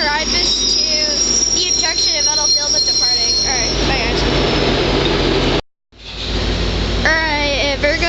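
An F40PH diesel locomotive on a passenger train rolls past close by, with a steady rumble, squealing wheels and screechy metallic tones, briefly cutting out before resuming; people talk over it.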